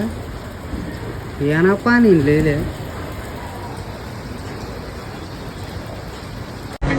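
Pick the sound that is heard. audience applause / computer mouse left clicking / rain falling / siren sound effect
rain falling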